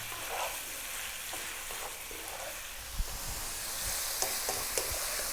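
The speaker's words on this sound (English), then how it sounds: "slightly above medium heat, 4 to 5 minutes stir frying this around" About 700 grams of lamb pieces sizzle steadily in a pan over slightly above medium heat, a continuous bright frying hiss broken by occasional clinks and scrapes as the meat is stirred around.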